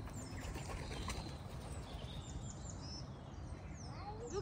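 Pigeons gathering in a public spot where people feed them, with soft flapping wings and faint coos and chirps over a low background murmur, heard from a short distance.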